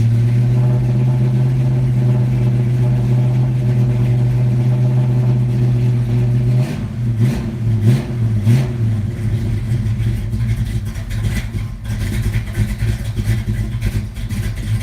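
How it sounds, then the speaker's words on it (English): A cold big-block Plymouth Cuda engine runs loud and close, holding a steady high rev for several seconds, then drops and surges in short uneven blips of throttle. "It's a little cold right now, so I want to keep my foot on the gas."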